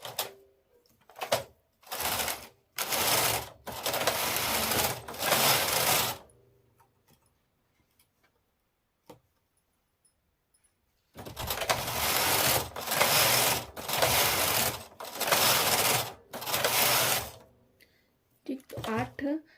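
A knitting machine carriage runs across the needle bed in long buzzing, clattering passes, one burst of short strokes, a quiet pause, then another extended run, close and loud.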